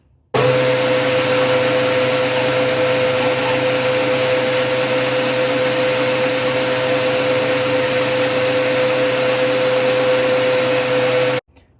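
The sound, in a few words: machine cutting a 4.5 degree taper in a tool holder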